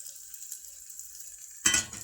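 Chopped onion dropped into a hot pan, a quiet hiss that suddenly bursts into a loud close sizzle near the end.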